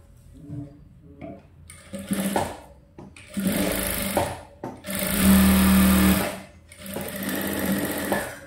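Sewing machine stitching folded blouse fabric for a princess-cut blouse, in several short runs that build to one louder sustained burst and then a final stretch, heard close and without speech.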